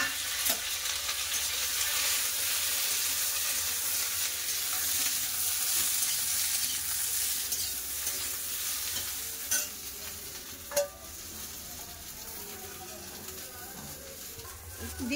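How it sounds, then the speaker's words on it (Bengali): Okra sizzles steadily in hot mustard oil with black cumin and slit green chillies in a pan, with occasional stirring clatters and scrapes cutting through the continuous frying hiss; a voice speaks now and then. "চেরা কাঁচা লঙ্কা, এবার দিয়ে দেবো ভেন্ডি।"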